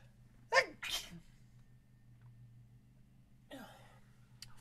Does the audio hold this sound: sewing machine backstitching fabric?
no